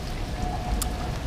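Rain falling steadily outdoors in Japan, a soft continuous patter with a brief sharper splash or crackle midway, moderately quiet and without voices.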